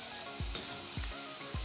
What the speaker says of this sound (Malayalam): ചിക്കനൊക്കെ നന്നായിട്ടൊന്ന് എണ്ണയ്ക്കിടന്ന് നന്നായിട്ട് തിളയ്ക്കുന്നുണ്ട്